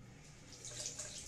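Running tap water pours steadily over a face and hands being rinsed, a soft, faint hiss with light splashing through the short moment.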